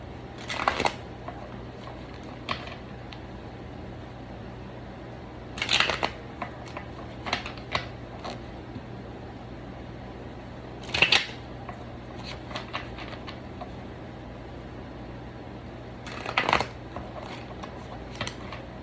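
Tarot cards are shuffled in several loud bursts around 0.5, 6, 11 and 16.5 seconds, each a quick riffling flutter, with quieter taps and handling between them over a steady low hum. Nobody speaks.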